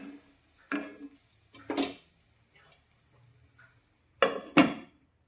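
Tomatoes soften in a covered pan as a spoon stirs them now and then, a few short scraping clatters against the pan separated by quiet gaps.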